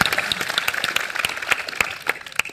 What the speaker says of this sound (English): Let's everyone give Bader a round of applause